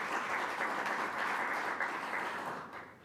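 A Rotary club audience breaks into steady, dense applause, a continuous wash of many hands clapping that holds evenly and then tapers off near the end.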